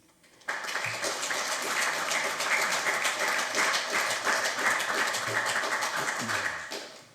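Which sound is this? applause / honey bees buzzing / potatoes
applause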